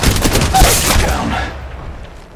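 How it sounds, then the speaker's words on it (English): In a video game, gunfire is heard as a loud, dense burst of rapid shots close by. It rolls into a booming echo that fades away over about two seconds. "Firing on subjects."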